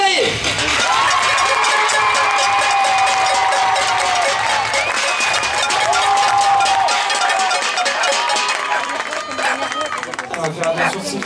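Applause and cheering from a crowd at an equestrian prize-giving ceremony for the medal winners, with a cowbell ringing and a horse event in the background, dense and continuous throughout, with chatter and shouts mixed in.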